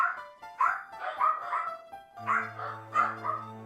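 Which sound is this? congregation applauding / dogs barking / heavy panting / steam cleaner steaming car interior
dogs barking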